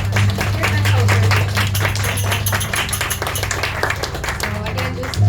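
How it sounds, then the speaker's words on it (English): An audience claps at a kirtan gathering in Toronto, rapid hand claps close and loud over a sustained low drone tone, the clapping dense and continuous for several seconds. "Maybe we could get a round of applause here going for Kirtan culture."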